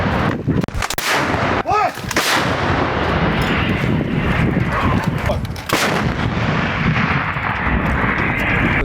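An M777 howitzer firing at enemy targets, several loud booming blasts with sharp onsets and rolling echoes, one after another over a steady outdoor rumble.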